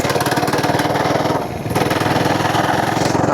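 An FRP GMB100 gas mini bike engine runs hard and close, a loud, steady, buzzing putter that dips briefly mid-run before returning to full revs, with no talk over it.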